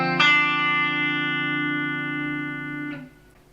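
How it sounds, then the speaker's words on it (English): Fender Elite Strat electric guitar on its bridge pickup at full volume and tone, one strummed chord ringing out clearly for nearly three seconds before being muted, played alone. "Bridge pickup, volume full,"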